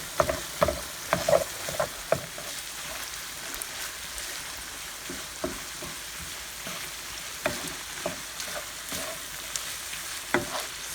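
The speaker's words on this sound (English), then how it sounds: "I'm going to go ahead and mix that all together." A keto Mexican-style filling seasoned with black pepper is stirred in a hot pan, the spoon scraping and clacking in irregular bursts over a steady, soft sizzle close by, with no talking.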